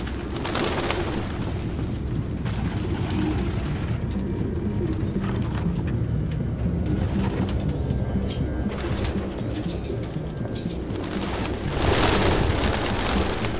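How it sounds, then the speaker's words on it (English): Pigeons coo in the video game Detroit: Become Human, soft repeated bird calls over a steady, dense outdoor ambience that swells slightly near the end. "Look at these pigeons."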